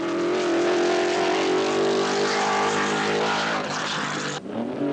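1955 British Grand Prix racing cars howl past at high speed, a loud sustained engine whine that climbs and shifts in pitch before dropping away sharply near the end.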